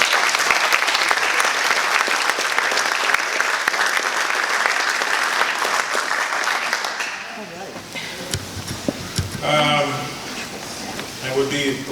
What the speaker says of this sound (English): Give a round of applause for all our work.